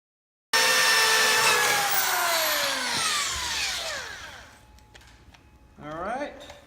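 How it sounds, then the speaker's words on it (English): A power drill with a quarter-inch bit bores pilot holes for a rear kit install on a 1981–87/91 one-ton 4wd truck conversion, whining loudly as it spins up and then down, followed by a shorter second burst near the end. "we'll take our about a 1/4 inch drill bit, and we'll use that to start the hole."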